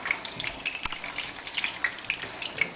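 Meatballs fry in a pan, giving a steady, crackly sizzle with scattered small pops, moderately loud and continuous with no voices.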